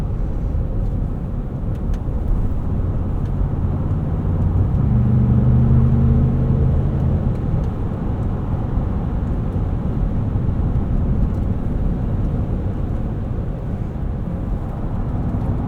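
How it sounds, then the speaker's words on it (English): Michelin Primacy tires on a 2025 Ford Expedition Max Platinum give a constant low road roar inside the cabin while driving, steady and loud with a brief deeper hum midway, no speech. "little bit of tire noise from these Michelin primacies, especially around corners"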